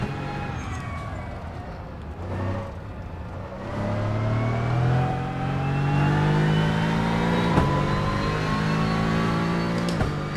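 A GT3 race car engine in Assetto Corsa on the Nordschleife dips briefly, then rises in a steady, loud acceleration, its pitch climbing smoothly through the gears with a couple of sharp shift blips.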